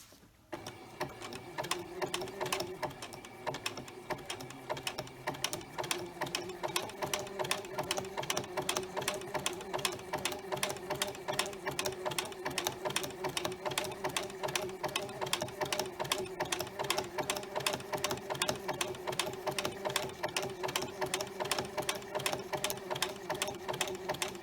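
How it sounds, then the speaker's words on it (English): A sewing machine runs a zigzag stitch across a batik leaf quilt, its needle ticking in a fast, even rhythm that holds steady and close throughout, with no talk. "Now that I'm where the leaf is, I'm going to make my zigzag stitch length shorter."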